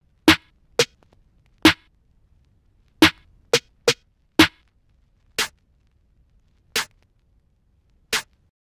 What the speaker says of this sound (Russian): Снэр.